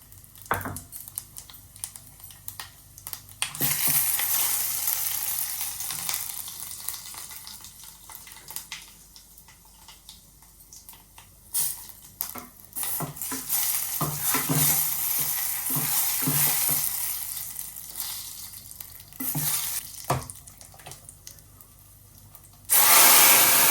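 Bay leaves, dried chillies and panch phoron hit hot oil in a pan, setting off a loud crackling sizzle that swells and fades in waves, with occasional stirring knocks and clinks nearby.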